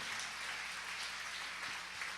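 A church congregation claps together in a steady, moderately faint wash of applause that continues evenly throughout without speech.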